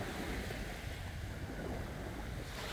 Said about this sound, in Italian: è come se il rumore del mare, il vento, questo mare qui